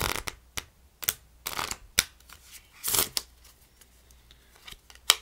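A face-down deck of playing cards is cut and shuffled by hand, giving irregular close-up bursts of riffling and slapping card sounds separated by brief pauses.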